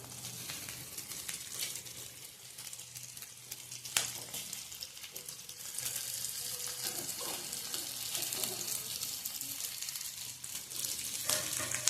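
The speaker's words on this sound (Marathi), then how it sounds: "छान अशी मिरची दोन्ही साईडनं खरपूस भाजून झाले" Stuffed green chilies pan-roast in a home kitchen with a soft, steady sizzle and occasional sharp clicks, fairly quiet throughout.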